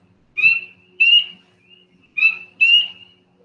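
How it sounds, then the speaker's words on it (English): Spring peeper frogs call in a played recording, four loud, clear, high whistled peeps in two pairs separated by short quiet gaps. "Here's the sound of spring peepers."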